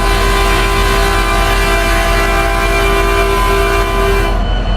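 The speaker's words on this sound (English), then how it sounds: "We're going to be testing 2 of this loud Metrolink train horns as well." A Metrolink F59PH locomotive horn in the Roblox sandbox game sounds as a loud, sustained multi-chime blast. It holds steadily for over four seconds, then cuts off abruptly, with a low rumble underneath.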